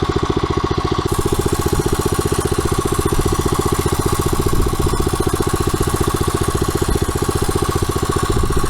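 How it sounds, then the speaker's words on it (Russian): Walk-behind tractor engine pulling a plough through a field, a loud, close, steady chugging drone with rapid even firing pulses that runs without letup and no talking. "Я иду за мотоблоком."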